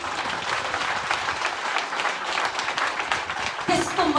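A church congregation bursts into sustained applause, dense overlapping clapping filling the room steadily and loudly.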